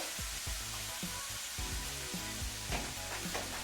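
Cabbage frying in oil in a pan, a steady loud sizzle with repeated scraping stir strokes, no voices.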